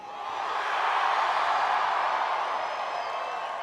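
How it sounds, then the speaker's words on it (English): A large, raucous crowd at a Bernie Sanders rally at CSU swells into sustained cheering and clapping, a thick, continuous roar that builds in the first half-second and then holds steady. "We have tonight a large crowd and a raucous crowd."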